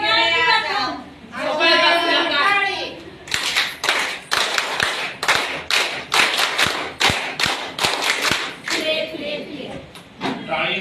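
A group claps in a sharp, rhythmic run of loud hand claps after a stretch of chanting voices, then voices resume near the end.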